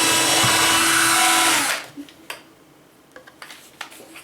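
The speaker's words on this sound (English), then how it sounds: "Now you could drill one big hole" A power drill boring a wiring hole for a homemade desulfating capacitive battery charger whirs loudly, then cuts off abruptly, leaving faint scattered clicks and taps.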